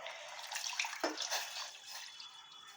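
A glass of milk is poured into a pan for making chai, producing a steady, soft liquid stream of pouring and splashing that runs close by for a few seconds and fades slightly near the end.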